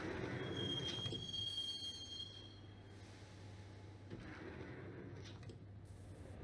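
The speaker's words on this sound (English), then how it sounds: "the train doors had already shut behind me, and I was in for the ride" Subway train riding in the video game Max Payne: a steady, loud rumble of rolling carriages with a thin high wheel squeal near the start and shifting rail noise throughout.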